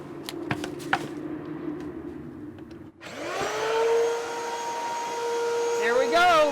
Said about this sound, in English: I'm going to turn on the vacuum former